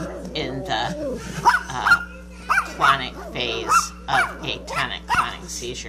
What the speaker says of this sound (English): If you can hear the barking, that is not the child, that is a dog in the room.